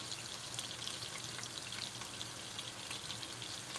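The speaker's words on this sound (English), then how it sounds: "That's the sizzle indeed." Hamburger steak of ground beef frying in a pan, a steady, faint crackling sizzle that continues evenly without pause.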